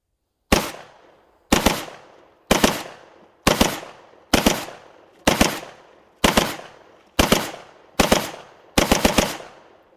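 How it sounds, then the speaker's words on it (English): A World War II MP44 rifle fires about ten sharp, evenly spaced single shots about a second apart, each loud crack followed by a short decaying echo, with no talk. "Let's see what the World War II rifle can do."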